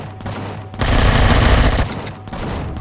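Rapid bursts of automatic gunfire from a weapon in the space survival game Empyrion, with a short opening burst and then a dense sustained volley of loud shots lasting over a second before stopping.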